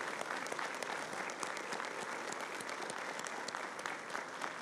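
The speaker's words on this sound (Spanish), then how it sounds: "Quiero pedirle a todos ustedes un fuerte aplauso para ellos" A crowd applauds steadily at a Venezuelan electoral council event, a dense continuous patter of many hands clapping at moderate distance, with no voices over it.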